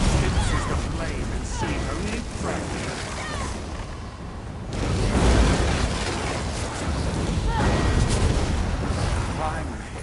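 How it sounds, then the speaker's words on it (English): Explosions go off during a boss fight in a video game, a continuous roar of booming blasts that swells and fades across ten seconds, with a voice talking over the din. "Get out of explosions, get out of explosions, get out of explosions."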